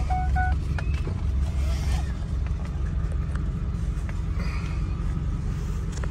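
A one-owner 2002 Ford F350 4x4 with the 7.3 Powerstroke diesel on the move, a steady low engine rumble from inside the cab, with a few short chime tones early on.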